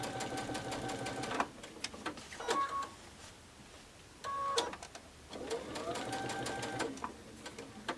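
A sewing machine stitching quilt fabric with a scallop template, close rapid mechanical chattering in two runs separated by a quieter pause with small handling clicks.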